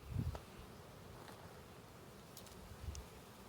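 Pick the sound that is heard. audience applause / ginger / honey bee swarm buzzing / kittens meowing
honey bee swarm buzzing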